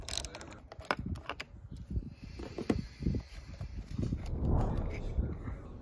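Wrench loosening the battery terminal on an Acura TSX, a run of close metallic clicks and small clanks from the tool, fairly faint, with light handling noise and rustle throughout.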